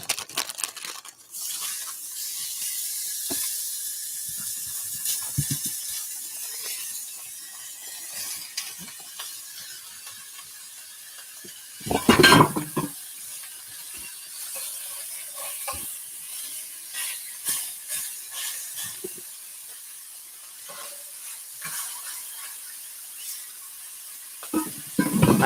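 Patty melt meat sizzles in a cast iron pan, a steady high crackling hiss with scattered pops and a louder burst of clatter midway, no talking.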